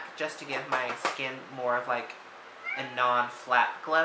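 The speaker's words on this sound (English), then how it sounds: "That's my cat." A house cat meows several times in short, clear, close calls, mixed with someone talking nearby during a makeup review.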